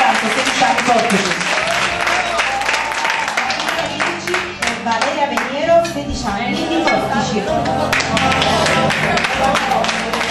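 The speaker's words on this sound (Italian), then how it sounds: "un applauso, Domenica Di Costanzo, 16 anni, portici." Audience applause for a teenage contestant at a beauty pageant evening, dense clapping heard alongside music and talking voices throughout.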